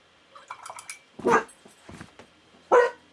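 A dog indoors gives two loud, sharp barks about a second and a half apart, with faint yips and whimpers in between.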